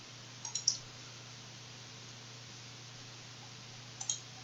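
Computer mouse clicks while locking a part in TurboCAD: a quick cluster of three crisp clicks, a long pause, then two more, close and quiet against faint hum.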